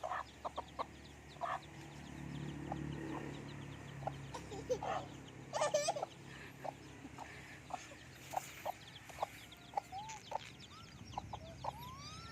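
Chicks and hens cluck close by in a yard, with soft repeated clucks and high peeps scattered across a steady low background hum.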